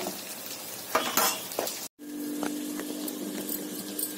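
Dahi vada, urad lentil fritters, frying in hot oil with soft sizzling and crackle, a few clinks and stirring scrapes of a utensil against the pan, a brief drop to silence midway, then steady sizzle.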